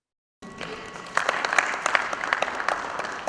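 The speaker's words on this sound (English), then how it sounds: "Please, another round of applause appreciating all of our past presidents" A conference audience in a hall breaks into loud, sustained applause that swells quickly after a brief silence and continues steadily with dense clapping.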